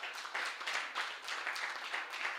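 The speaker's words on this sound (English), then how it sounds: "y'all give her a round of applause" Faint audience applause at a community gathering, a soft continuous patter of many hands clapping heard from a distance and steady throughout.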